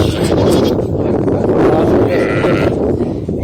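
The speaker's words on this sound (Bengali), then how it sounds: "এই যে বন্ধুরা ছাগলগুলি খাবার খাচ্ছে খাবার দেওয়া আছে এখানে" Goats feed in a pen on a hot Saudi Arabian farm, with a dense, continuous murmur of chewing, shuffling and occasional bleats close by, while someone talks over it.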